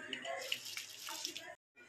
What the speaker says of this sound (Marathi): उकळलेल्या पाण्यामध्ये आपण भिजत घातलेला जो राईस होता तो टाकून घेऊया.